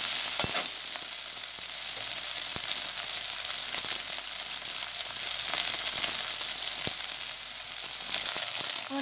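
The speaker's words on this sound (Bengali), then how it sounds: "আমার সয়াবিন ভাজাটা আমার হয়ে গেছে" Soybean chunks coated in salt, turmeric and raw oil fry in hot oil in a kadai, giving a steady, close, continuous sizzle with scattered crackles and no talking.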